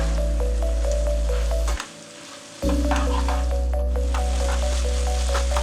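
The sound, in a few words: gobi 65 cauliflower frying on high flame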